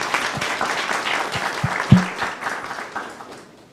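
An audience at the opening ceremony of the All Kenyan Moot Court Competition applauds for the steering committee, producing moderate, fairly close clapping that swells briefly and then fades out over a few seconds.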